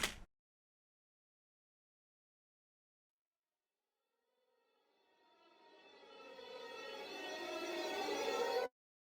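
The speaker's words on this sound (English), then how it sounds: "This is the reverse cymbal from my Roland, my JDXI." A reverse cymbal from a Roland JD-Xi synth with flanger and EQ swells up slowly from silence into a bright, rising whoosh that cuts off abruptly at its peak, preceded by a tiny click.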